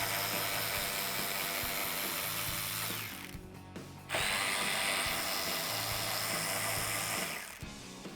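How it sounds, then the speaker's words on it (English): A 10mm socket on a ratchet backs out the upper front bumper bolts on a 2005-2009 Mustang, giving a steady run of quick clicking pawl ratcheting, close up, with a short pause midway and no talk. "Now I'm going to use a 10mm socket to remove these 2 upper bumper bolts."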